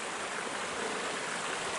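A stream flows at a water source on a hiking trail between Boom Lake and Taylor Lake, a dense, steady rushing hiss close by with no voices.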